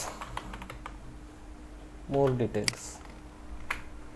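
Keys clicking on a computer keyboard during a web development lesson, a few scattered taps and then a quick burst of fast typing, close and moderately loud, with no one speaking over it.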